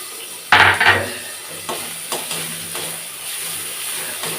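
Ground cumin, coriander, chili and turmeric frying in a pan for katla fish kalia sizzle under stirring, opening with a loud scrape and followed by softer, spaced scrapes of the spoon.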